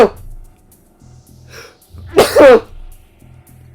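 One sharp, loud sneeze bursts out close to the microphone, followed by a brief spoken apology, with quiet low game sounds underneath.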